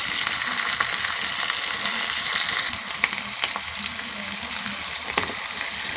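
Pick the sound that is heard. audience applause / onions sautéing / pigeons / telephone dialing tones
onions sautéing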